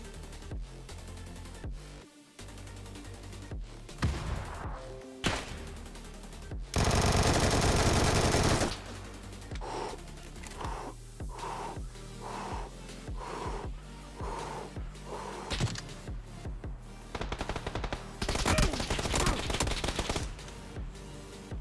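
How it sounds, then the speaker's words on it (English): Sniper rifle shots in the battle royale game PUBG, scattered sharp cracks spread across the stretch with quieter gaps, one long loud noisy burst in the middle, and several repeated hits toward the end. "Two snipers fighting."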